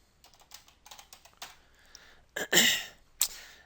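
Keys clatter on a computer keyboard as a password is typed for SQL Server authentication, a quiet run of light taps followed by a few louder, sharper keystrokes near the end, with no voices.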